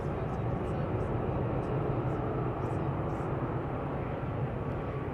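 An airliner taxiing at Manchester Airport, a steady broad jet-engine roar from moderate distance, continuous and even, with a voice speaking over it.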